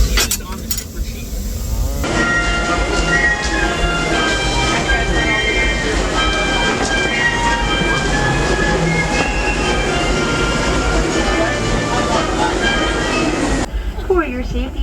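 Loud, continuous rumble of the Disneyland Railroad train moving on the rails, with rattling wheels and metallic clatter throughout, quieter at the very start and end.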